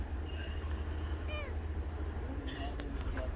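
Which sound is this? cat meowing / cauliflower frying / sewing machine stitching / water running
cat meowing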